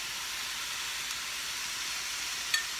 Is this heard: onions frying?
yes